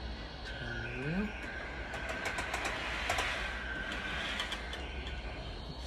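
A model railway train runs along its track at a steady, low hum with faint clicking, plus a brief rising whine near the start and a few sharp ticks spread across the run.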